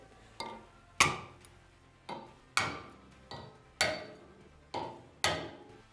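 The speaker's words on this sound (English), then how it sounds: "take a punch right on the end of the valve, and we're going to hit it with a hammer" Sharp metallic hammer strikes on a punch against a valve end while seating the keepers on a Kawasaki KX450 engine, eight evenly spaced blows, each ringing briefly before the next.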